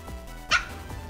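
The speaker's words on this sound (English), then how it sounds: "your puppy's got a good voice box" A puppy gives a single sharp bark near the middle of the moment, close and fairly loud, with faint game audio murmuring underneath.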